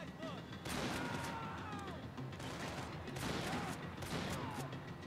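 Shotgun blasts in Max Payne 3 land as loud, booming, repeated reports over a dense backdrop of battle noise, with a voice talking over the shooting.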